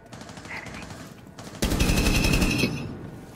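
Rapid automatic gunfire from the Rainbow Six Siege shooter game: a short rattling burst is followed by a louder, sustained close stream of shots that then fades, with faint voices nearby.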